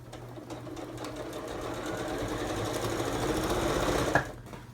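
A sewing machine stitches heavy fabric for a cushion cover, giving a rapid, continuous mechanical whirr that slowly builds in loudness before a brief clack near the end.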